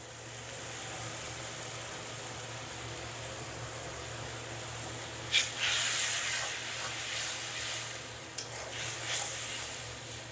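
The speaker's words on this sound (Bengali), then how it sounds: "এবার এটা কিছুক্ষণ কষাই নিব" Ground spices for a fish curry with potato and bottle gourd sizzle softly in a pan over a steady hiss, with a couple of brief louder scrapes of stirring partway through.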